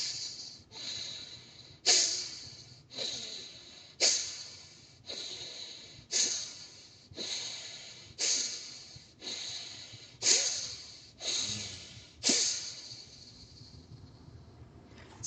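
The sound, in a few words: yogic pranayama breathing exercise, forceful nasal breaths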